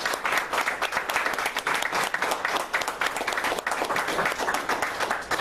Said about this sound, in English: I would like some more applause for Barbara